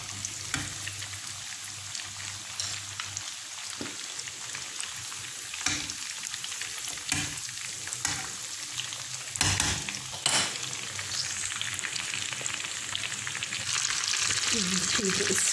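Chicken escalopes frying in oil as they are turned over in the pan, a continuous crackling sizzle punctuated by scraping and clattering turns, with the frying growing louder and denser toward the end.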